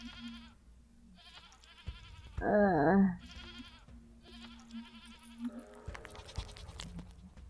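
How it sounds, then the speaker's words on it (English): A ghost goat in the game Sally Face lets out one short, wavering bleat in the middle, set against quiet, sparse ambient tones and soft background clicks. "What the heck was that? A ghost goat, apparently."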